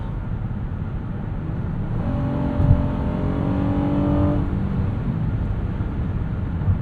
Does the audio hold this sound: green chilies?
no